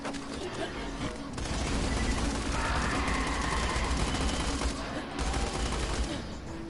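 Gunfire in the video game Borderlands: The Pre-Sequel, a dense sustained fusillade of rapid shots with a brief lull near the end, loud and continuous.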